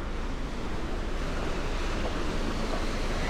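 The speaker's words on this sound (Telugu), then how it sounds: "చూసుకుంటే వైట్ శాండ్ బీచ్ అంట ఇది" Surf washing onto a white sand beach at Jervis Bay, Australia, heard as a steady, continuous roar of breaking waves with some wind buffeting the microphone and no talking.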